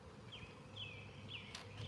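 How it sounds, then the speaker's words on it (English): A hive of bees up in a tree, their buzzing a faint outdoor drone with a few thin gliding tones passing over a low rumble. "Big old hive of bees up there."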